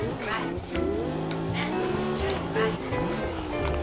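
A car drifts and slides in the racing video game TDU Solar Crown, its tyres squealing in wavering tones over a constant engine drone for a few seconds.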